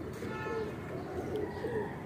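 Golden pigeons coo softly in a few short calls over a steady background murmur, close by.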